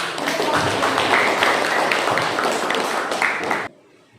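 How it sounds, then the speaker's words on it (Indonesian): Classroom audience clapping for a student group, dense steady applause lasting several seconds before cutting off abruptly near the end. "Beri tepuk tangan."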